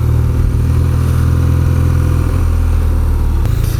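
A BMW R12 motorcycle's air-cooled horizontal boxer engine runs steadily, a loud close-up low rumble that holds even throughout with little change in pitch.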